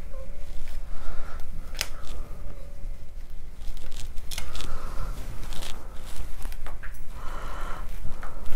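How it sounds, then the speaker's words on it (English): A large juniper bonsai root being cut, heard as a run of close, dry snips and crackles at irregular intervals, with a few sharper clicks over a steady low background rumble. "I'm going to cut this big root here."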